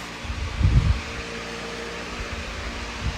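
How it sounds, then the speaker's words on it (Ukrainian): An electric fan runs with a steady, even airy whir close by, a brief low thump sounding near the start, and no voices over it. "Оце вентилятор."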